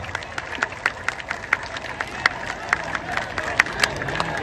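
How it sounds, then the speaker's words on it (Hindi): Scattered clapping from a crowd at a Jan Suraaj party gathering welcoming Manoj Bharti as its first president, sparse individual claps recurring over a few seconds beneath someone speaking. "सब लोग ताली बजाकर स्वागत कीजिए"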